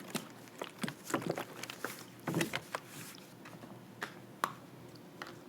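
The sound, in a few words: shaking a bottle of liquid fertilizer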